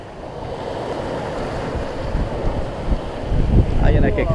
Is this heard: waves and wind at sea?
yes